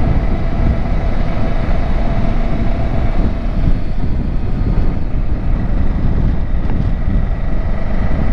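A steady, loud engine drone with rushing wind and water noise from a speedboat ride near Olho D'água do Casado and Piranhas, Alagoas, Brazil, continuous throughout without voices.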